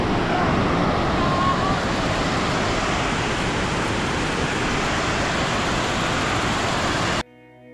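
A steady, dense roar of falling water at Wawa Dam, loud and continuous before cutting off abruptly near the end.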